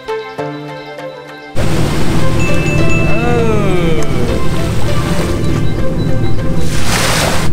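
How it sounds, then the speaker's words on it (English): Ocean waves and wind roar loudly around a boat on a sunset cruise, a dense continuous rush that cuts in abruptly after a brief stretch of music. "Got some nice waves coming in."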